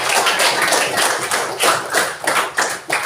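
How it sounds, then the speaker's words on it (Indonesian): Classmates in a classroom clap their hands together in a close, loud burst of rhythmic claps, uneven but steady, with no talking over them. "Tepuk tangan untuk teman-teman yang sudah benar."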